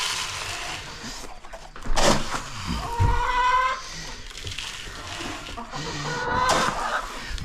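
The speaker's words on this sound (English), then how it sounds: "21 chicks, guys, is a lot of chickens to feed" A brood of 21 chicks and chickens cluck and peep in short, scattered bursts, a few thin calls standing out over a steady rustling background, moderately close with no talk.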